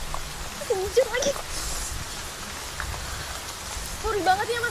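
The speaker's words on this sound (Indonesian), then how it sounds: "Hujan lagi." Steady rain patters down throughout, with a person talking intermittently over it.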